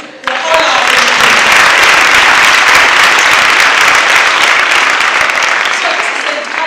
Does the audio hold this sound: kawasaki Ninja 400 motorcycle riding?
no